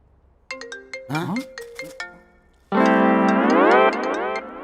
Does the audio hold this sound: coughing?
no